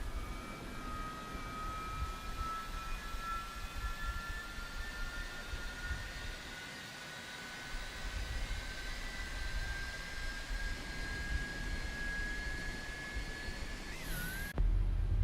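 Boeing 777-200ER jet engines in the X-Plane 12 flight simulator with the FlightFactor engine expansion pack run with a steady, slowly rising turbine whine over a broad roar, ending in an abrupt shift in tone.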